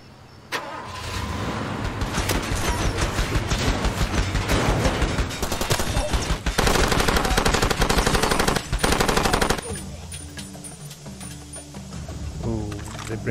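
Heavy gunfire from big guns in the video game Far Cry 2 bursts out loud and rapid, with dense automatic volleys over an engine-like rumble for about nine seconds before easing off.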